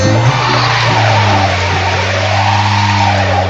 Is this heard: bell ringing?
no